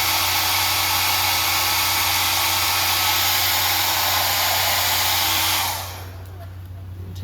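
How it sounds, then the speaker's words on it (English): A hair dryer blow-drying a wig, a steady loud roaring whoosh that runs for several seconds and then cuts off abruptly, leaving near silence. "Do a quick blow dry."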